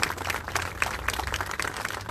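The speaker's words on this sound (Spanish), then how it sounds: "Un fuerte aplauso a la presencia de toda la comunidad universitaria" An audience applauds at a university ceremony honouring the centenary of Ricardo Palma's death, a dense, steady wash of many hands clapping for a couple of seconds with no voices over it.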